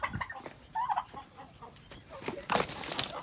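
A chicken clucks in short, close, uneven bursts, with a sharper louder squawk near the end.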